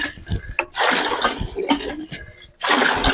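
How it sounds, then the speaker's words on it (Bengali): A hand-pumped tubewell gushes water in uneven bursts, with splashing surges and brief pauses between pump strokes, close and fairly loud. "এটা কতক্ষণ ধরে পাম্প করবো, তারপর টিউবওয়েল থেকে জল বাড়াবে।"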